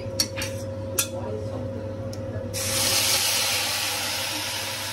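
Whole garam masala and bay leaves sizzling as they temper in hot oil, a few sharp clinks at first, then a broad steady hiss that swells louder halfway through and holds, close by and with no talk.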